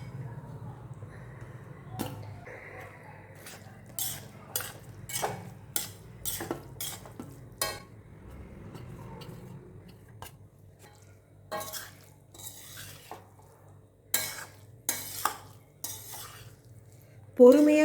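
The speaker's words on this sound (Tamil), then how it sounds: "பொறுமையாக கலரணும், இல்லைன்னா அரிசி உடஞ்சிரும் நம்மளுக்கு." Rice cooked with tomatoes is stirred in a kadai, a spoon scraping and clinking against the metal in a steady run of sharp strokes over a low background hum, with no talking.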